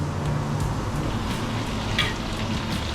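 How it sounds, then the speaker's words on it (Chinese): Chopped dried shrimp fries in a pan, giving a steady, moderately loud sizzle with scattered small crackles and pops throughout, up close with no voices. "等一下小心啊，它会噼噼啪啪哦。"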